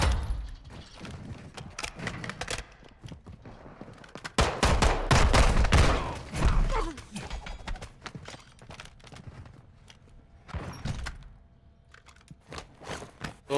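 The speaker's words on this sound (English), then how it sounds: "Oh, I'm getting sniped at." Gunfire in Call of Duty DMZ rings out as scattered sharp shots and a dense burst of rapid fire, with footsteps and clatter between, loud and close.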